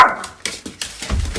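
A pet dog makes short whimpering yips close by, a few brief whines spaced across a moment, followed by a low rumble near the end.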